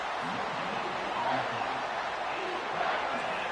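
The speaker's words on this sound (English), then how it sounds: "Decibels rising as the crowd gets behind this defense on 3rd down." A stadium crowd in the College Football 25 video game keeps up a steady, loud, unbroken roar during a third-down defensive stand, with no other sounds standing out.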